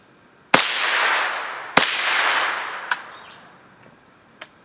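Ruger 10/22 rifle with a BSA Sweet 22 scope shooting steel plates at 100 yards outdoors: two sharp cracks, each followed by a long fading echo, then two fainter clanks of hits on the distant steel.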